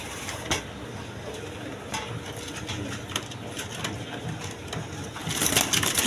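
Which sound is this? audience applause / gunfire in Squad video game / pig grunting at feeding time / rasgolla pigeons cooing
rasgolla pigeons cooing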